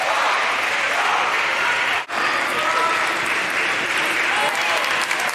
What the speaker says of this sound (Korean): 경기를 지켜보는 관중들의 응원전도 뜨겁습니다.